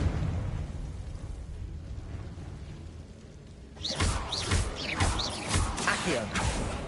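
Confringo blasting spell in Hogwarts Legacy, a low rumbling buildup followed by a rapid series of loud bursting blasts and whooshing pops, several in quick succession.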